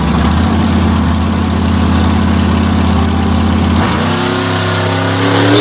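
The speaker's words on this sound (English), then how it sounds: "Brand new class of monster trucks making their competition debut." New-class monster truck engines at HorsePower Park thunder loudly and close, a deep pulsing idle that shifts into a rising rev near the end.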